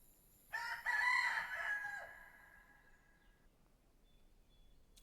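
A rooster crows once, loud and clear, alongside brief clucking from chickens in the video game dotAge, then the call fades into near silence.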